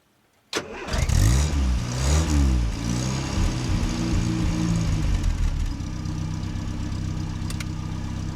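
A car engine cranks and catches, revs briefly, then settles into a steady idle as it warms up on a trip toward the Arctic, close and continuous.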